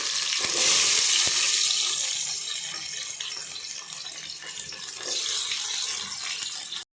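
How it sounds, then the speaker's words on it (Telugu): Onions and green chillies hit hot oil for a Nellore-style fish curry, making a loud sizzling hiss with a couple of sharp knocks early on. The frying swells, eases, then surges again before cutting off. "ఇప్పుడు ఆనియన్స్ వేస్తున్నాము. కట్ చేసుకున్న పచ్చిమిరపకాయలు కూడాను"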